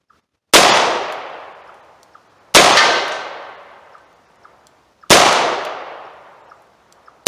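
Three sharp, loud revolver shots with low-powered rounds, evenly spaced about two and a half seconds apart, each ringing out in a long fading tail, with faint small ticks trailing after each one, outdoors and without talking.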